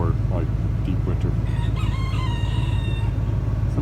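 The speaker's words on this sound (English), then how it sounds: "Some new chickens we got" Rooster crowing amid clucking chickens on an off-grid farm in Alaska, a clear cock-a-doodle-doo rising over a constant low engine rumble, with a few scattered clucks nearby.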